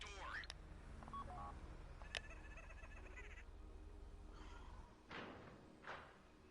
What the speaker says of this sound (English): Take out your phone and trigger the door.